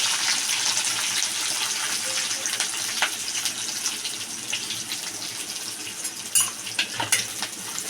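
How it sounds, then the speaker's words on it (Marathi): Curry leaves, onion and green chillies frying in hot oil for a tempering, a soft continuous crackling hiss with a few sharper pops near the end, fairly quiet and without talk. "कढीपत्ता, कांदा, मिरच्या आपण फोडणीला दिले आहेत।"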